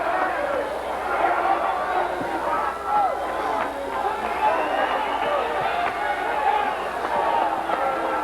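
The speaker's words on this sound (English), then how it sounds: "Crowd trying to get pumped up here in the latter stages of the 12th and final round." Arena crowd at a 1984 kickboxing bout, Dennis Alexio against Rob Salazar, in the closing moments of the twelfth and final round: a steady murmur and rising chatter of spectators, heard under continuous commentary.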